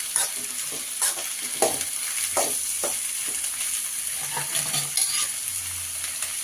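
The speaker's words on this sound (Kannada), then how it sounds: "ಕೊತ್ತಂಬರಿ ಸೊಪ್ಪು, ಹಾಗೆ ಚಕ್ಕೆ, ಲವಂಗ, ಮೆಣಸು ಇಷ್ಟನ್ನು ಹಾಕಿ ಚೆನ್ನಾಗಿ ಫ್ರೈ ಮಾಡ್ಕೊಳ್ಬೇಕು." Coriander leaves, cinnamon, cloves and pepper fry in a pan, a steady close hiss of sizzling broken by several sharp scraping stirs of a spoon against the metal.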